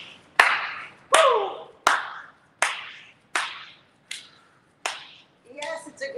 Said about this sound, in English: Maybe actually give a little clap, right?